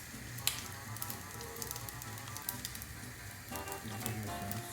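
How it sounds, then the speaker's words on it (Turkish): Butter melting in a pan for sulu börek, a soft continuous sizzle with small crackles and pops, close but fairly quiet, swelling slightly toward the end, no talk. "Burada tereyağı da eritiyoruz arkadaşlar."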